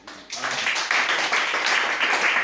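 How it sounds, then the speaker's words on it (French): Congregation in a church clapping and cheering together, a steady sustained wash of applause and crowd noise that swells in after a brief quiet start and holds loud throughout. "Acclamez très fort"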